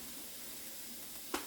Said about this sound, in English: I'm just going to let those cook till they start getting a really pretty golden color